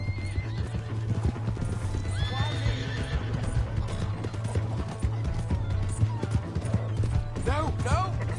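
Horse hooves clip-clop at a steady gallop in a video game, with repeated neighs and whinnies rising over the hoofbeats, while voices shout throughout.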